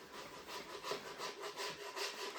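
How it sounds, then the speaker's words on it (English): A plastic scraper dragged over a waxed snowboard, stripping off wax in rhythmic back-and-forth strokes about three per second, a close, fairly quiet scratchy rasp heard alone. "you want to scrape off as much wax as you can possibly get out"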